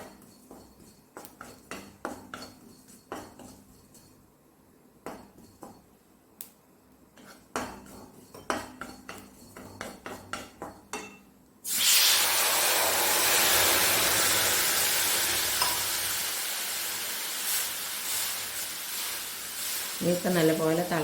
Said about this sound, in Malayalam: ഇനി നമുക്കിതിലേക്ക് വെള്ളം ഒഴിച്ച് കൊടുക്കാം.